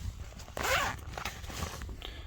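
A zipper rasps open once on the front compartment of a hiking pack, a quick close pull lasting about half a second, followed by faint handling rustles and light movement.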